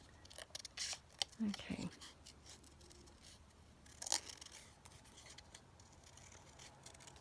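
Scissors snip and rasp through master board paper at a desk, a few close, quiet cuts and rustles in short bursts, with a brief spoken word.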